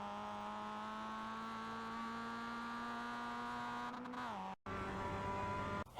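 Mazda MX-5 engine at Tsukuba circuit in the iRacing simulator, a steady sustained drone that sags briefly on a lift, cuts out for an instant, then resumes at a constant pitch.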